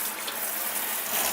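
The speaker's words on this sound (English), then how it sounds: "this is a good time to turn on some really hot water" Very hot water runs from a kitchen faucet in a steady, loud, full rush that holds constant without a break, with no talk over it.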